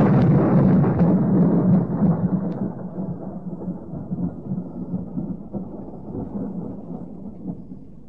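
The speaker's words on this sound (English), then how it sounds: "There's going to be a storm." Radio-drama thunderstorm effect: a heavy rolling thunderclap that rumbles loudly at first, then fades into a long low grumble with steady rain-like hiss beneath, no voices.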